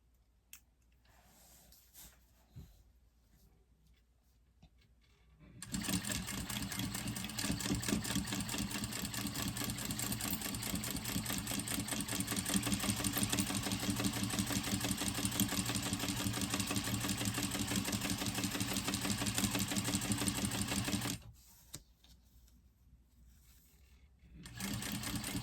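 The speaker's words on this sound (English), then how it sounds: "Now I'm going to back stitch at beginning and end." A sewing machine stitches a tote bag in one sustained, rapid mechanical whir of about fifteen seconds, starting and stopping abruptly, framed by quiet handling noises before and after.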